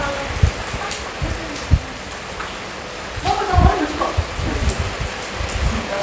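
Steady rain falls on surfaces outdoors, with scattered louder drops and brief murmured voices beneath the continuous hiss.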